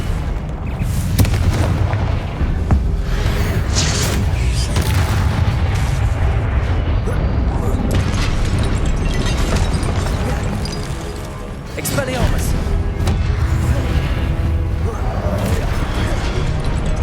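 Confringo explosive spell in the wizarding game Hogwarts Legacy: repeated booming blasts and crashes run through a long, loud combat stretch, with voices calling out over the action.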